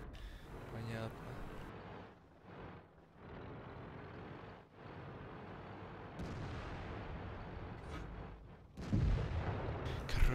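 Cannon firing in a video game: booming shots break out at intervals over a steady game background, with a louder burst near the end.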